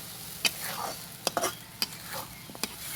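Broiler chicken curry being stir-fried into kosha in a pan, with a soft steady sizzle and a few sharp spatula scrapes and clinks spaced through it, close and fairly quiet.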